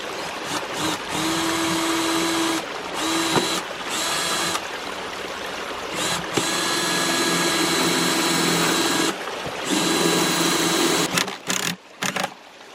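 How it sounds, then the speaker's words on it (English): A power drill with a small bit whines loudly in long bursts with brief pauses between them, its pitch wavering as it strains against hard rock while boring holes for concrete anchors. "That rock is far too hard for my little bit to drill into"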